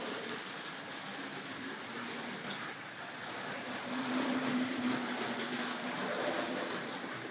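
A Tri-ang Hornby model train runs steadily along its track, a continuous rolling rumble with faint clicking that swells slightly partway through, heard alone without any voices.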